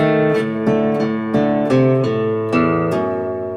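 Guitar plays a short lick, about eight crisp plucked notes with a bouncy rhythm, close and alone with no voices.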